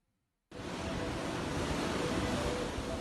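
Surf rolls in at Namalatu beach in Latuhalat, Ambon, Maluku: a steady, loud wash of breaking waves that starts abruptly and then holds with little change, with no voices.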